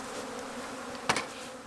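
Honey bees buzzing around a Kentucky beehive: a steady, soft, droning hum throughout, with one louder brief buzz close by as a bee passes near, no talking.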